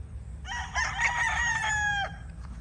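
A bullstag gamecock crowing once, a clear, fairly close cock-a-doodle-doo lasting well over a second, over a low background rumble with no talk.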